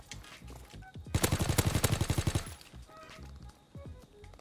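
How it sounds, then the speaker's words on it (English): Rapid automatic bursts from a Type 100 submachine gun in Call of Duty WW2, one sustained string of sharp shots lasting over a second, with quieter game sounds before and after. "I'm destroying everyone with this gun."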